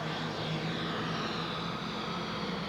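An alcohol-burning pulling tractor engine roars during a 1986 tractor pull, a loud, sustained, strained drone with a steady low tone and a broad rushing hiss across the whole stretch, no voices heard.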